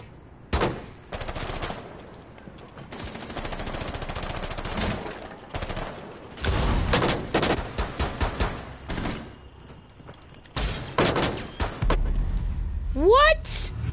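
Rapid automatic gunfire in the video game Rainbow Six Siege, loud close bursts broken by short gaps, with a player talking between and over the shots.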